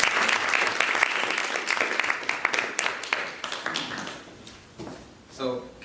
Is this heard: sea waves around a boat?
no